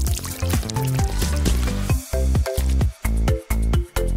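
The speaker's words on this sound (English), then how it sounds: "Put it all together and pour yourself a drink." Water pours and trickles from a small toy micro cooler into a drink, the stream breaking into gurgling, glugging bursts with short pauses, close and clear with no talking.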